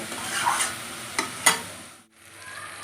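Jackfruit curry (echor kalia) being sautéed in an oily pan, a steady sizzle with a few sharp spatula scrapes and clinks, briefly dropping away near the end before resuming softly.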